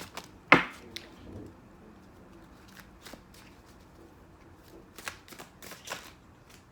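Oracle cards being shuffled in a home card-reading setting: a sharp riffle burst near the start, then scattered light card flicks and taps, close and fairly quiet, with no talking.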